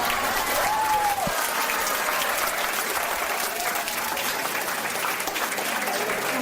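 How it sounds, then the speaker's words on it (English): A crowd at a bus race at a short track cheers and applauds steadily, a broad wash of clapping and noise that holds for the whole stretch, with a distant voice briefly over it. "The crowd goes wild."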